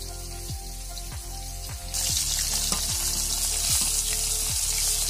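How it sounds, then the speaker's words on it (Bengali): A large fish head and two small pieces of fish drop into hot oil in a wok. A loud, steady sizzle bursts in partway through and keeps going, close and strong, over a low repeating background hum. "বড় একটা মাছের মাথা আমি এবার কড়াইয়ের তেলের মধ্যে ছেড়ে দেবো"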